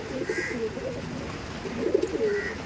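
Pigeons coo softly nearby in two short bursts of low, throaty warbling, with faint background hum between them.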